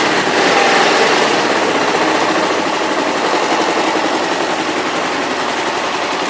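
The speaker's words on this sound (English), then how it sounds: "Alright, let's fire it up. This is a carbureted parallel twin 500cc bike." Carbureted 500cc parallel-twin engine of a 2006 Kawasaki EX500R motorcycle on stock pipes, running loud and close with a dense, rapid rattling beat that holds steady throughout, no voices.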